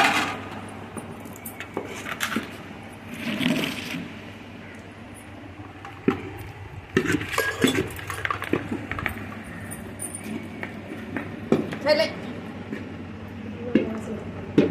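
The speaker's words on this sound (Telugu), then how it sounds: "పాకంలో పల్లీలు పోసుకొని తిప్పుకుంటున్నాము." Peanuts are stirred into hot sugar syrup on the stove for peanut chikki, making intermittent scraping and knocking sounds against the pan, moderately loud and close.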